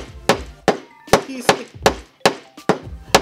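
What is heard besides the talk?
hammering nails into wooden cornhole box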